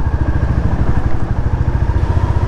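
A Royal Enfield Classic 350 motorcycle engine runs steadily with a deep, bassy thumping exhaust pulse, loud and close, heard alone for its whole length.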